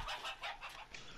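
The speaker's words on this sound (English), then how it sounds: "Is that a chicken?" A chicken in the survival video game 7 Days to Die clucks in a quick series of short, rhythmic bursts, three or four clucks fairly close and clear with no talk over them.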